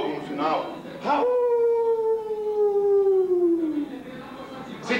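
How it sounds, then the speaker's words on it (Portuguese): Wolf howl sound effect: a long, clear, slowly falling howl rising out of a short burst of other sound, sustained for several seconds before fading. "O som de um rugido no início e um uivo de lobo no final."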